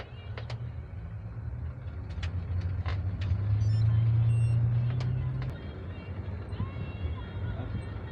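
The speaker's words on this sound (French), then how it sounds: "Oh mince, le bus, donc c'est bon, il m'a vu." City bus on a street, a loud steady engine rumble swelling as it passes close by, with a rising droning tone in the middle and faint beeps above; a person's voice is partly audible.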